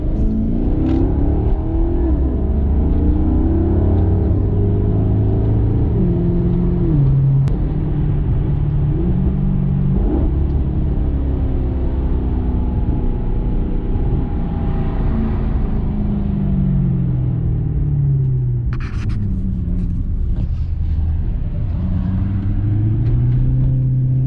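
Supercharged Corvette driving, its engine rumbling steadily and rising and falling with revs throughout, loud and close, with no voices.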